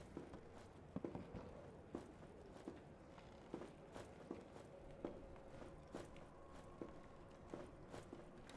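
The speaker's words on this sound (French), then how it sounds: "C'est bien des bruits de pas" Footsteps in the war survival game This War of Mine, a steady series of soft, evenly spaced steps over a dull, noisy background.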